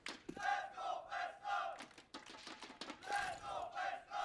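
Esports arena crowd at IEM Katowice 2019 during a CS:GO match, FaZe vs. Cloud9, chanting and cheering for FaZe in rhythmic bursts of loud shouting, rising and falling several times over a few seconds.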